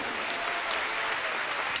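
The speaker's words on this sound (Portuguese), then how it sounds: "Vamos aplaudir a Jesus" A church congregation claps together in a continuous, lively burst of applause that fills the room for a couple of seconds.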